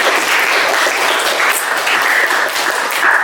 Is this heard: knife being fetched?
no